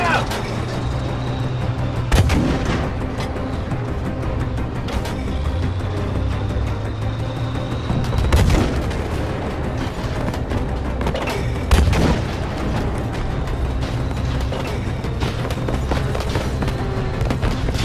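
Tank and artillery fire in Battlefield 5: heavy booms land every few seconds over a constant loud engine rumble and battle din, with shouted voices mixed in.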